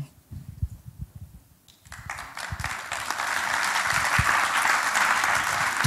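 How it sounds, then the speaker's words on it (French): Applause from a conference audience at a closing round-table session on electricity grids, starting after a moment of quiet with scattered speech and building into steady, sustained clapping. "merci pour vos applaudissements"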